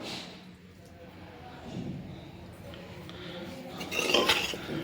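A pot of mixed vegetables with baby corn and mushrooms is stirred with a utensil, giving soft scraping and clinking that builds to louder metallic scrapes near the end, with faint background voices.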